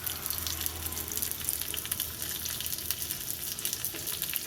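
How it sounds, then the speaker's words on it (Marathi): Garlic and a few red chillies sizzle hard in hot ghee for a tadka, a loud continuous crackling fry up close, steady throughout with no voices. "आपला तडका रेडी झाला आहे।"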